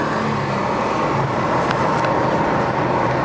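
A 2004 Pontiac GTO on a test drive runs with a steady engine and road drone from inside the cabin as it shifts through the gears, with faint clicks partway through.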